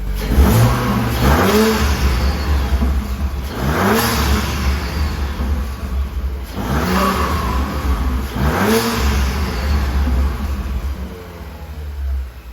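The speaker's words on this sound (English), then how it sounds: "let me give you guys a few revs here and let me see how it sounds" An Audi RS5 engine fitted with an AWE intake revs sharply three or four times, each rev rising and falling back to a steady idle, loud and close.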